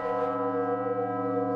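The bell of the Metropolitan Cathedral in Mexico City's historic centre rings with a long, sustained metallic tone and rich overtones, steady and resonant throughout.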